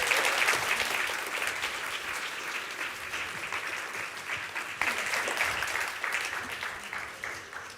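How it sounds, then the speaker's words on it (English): Audience at a World Press Photo presentation clapping warmly, a dense, steady wash of applause that holds for several seconds with a small swell near the end, with no speech over it. "Warm applause."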